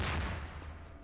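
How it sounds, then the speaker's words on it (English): A single Half-Life 2 grenade blast, a heavy low-end boom that hits at once and rumbles away over about a second, fairly quiet in the mix. "Oh, that was a grenade."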